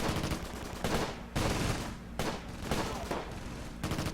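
Gunfire from the World War II strategy game Close Combat: Gateway to Caen, repeated loud bursts and booming shots in quick succession, continuous volleys over about four seconds.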